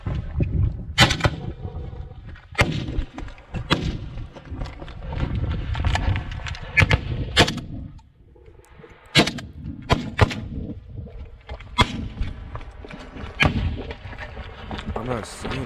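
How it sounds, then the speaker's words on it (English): AK rifle gunfire during military training, sharp loud shots fired in irregular single reports and short bursts over about fifteen seconds, with voices talking between them. "Well, that AK thumping."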